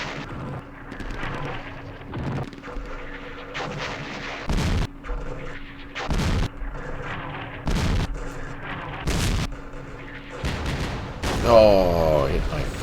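Mortar rounds landing in the wargame Campaign Series West Front, a series of sharp booming impacts at regular intervals over a continuous rumbling battle bed.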